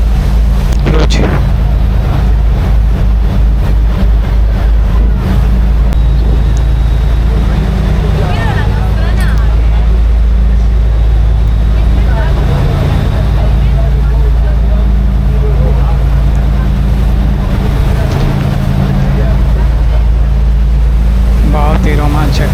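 A boat near Santorini rumbles with a steady, loud engine drone and constant wind and water wash throughout, while voices chatter faintly beneath the noise.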